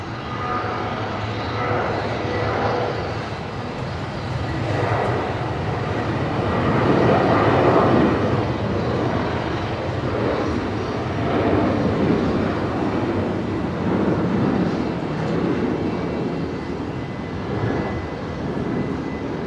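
Airliner at Brisbane Airport, a steady broad engine roar holding for the full stretch at twilight, swelling slightly in the middle as it passes at moderate distance, with no voices over it.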